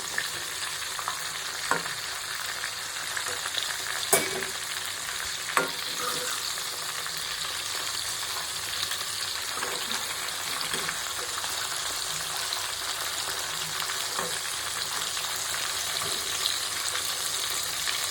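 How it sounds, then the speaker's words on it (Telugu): Raw prawn fritters (royyala vadalu) frying in hot oil, a steady broadband sizzle throughout with occasional sharp pops and crackles, close and alone without talk. "అలా వేసుకుని చక్కగా వేగనివ్వాలండి."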